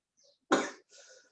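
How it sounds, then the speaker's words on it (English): A single sharp cough bursts out close by, followed by a softer breathy throat-clearing sound, with near silence around it. "I'm coughing because something happened suddenly."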